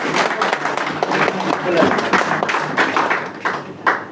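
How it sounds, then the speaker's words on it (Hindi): An audience at a community convention in India claps loosely and unevenly, scattered hand claps over a murmur of voices, with a few sharper claps standing out. "आप सबकी जोरदार तालियों की बरसात चाहिए"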